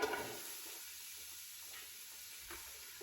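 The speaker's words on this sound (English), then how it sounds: "some olive oil in my pan, and I'm just going to tip my onions straight in" Onions tipped into olive oil in a pan give a soft, steady sizzle with faint hiss, fairly quiet and close, with a small clatter at the start and end.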